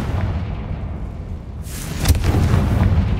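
A Confringo blasting spell explodes inside a cursed tomb in Hogwarts Legacy, a single sharp burst that rises out of a steady rumbling game ambience, loud and close, with no talk.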